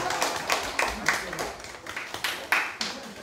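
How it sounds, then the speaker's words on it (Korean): Audience applause at a Sunday school dedication church service, a short burst of scattered hand claps with sharp individual slaps, heard close and mixed with voices. "박수로 축하하겠습니다"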